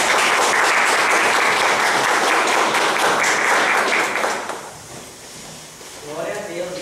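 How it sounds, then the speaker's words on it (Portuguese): Congregation at a church service claps in sustained, dense applause that stays loud for about four seconds, then fades out, with a voice coming in near the end. "Uma salva de palmas."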